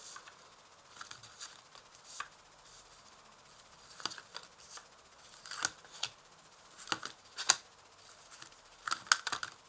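Tarot cards are shuffled and flipped over on a table: scattered soft papery snaps and flicks come in irregular bursts, close but quiet, with near silence between them.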